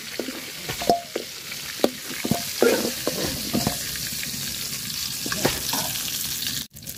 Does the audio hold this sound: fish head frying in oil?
yes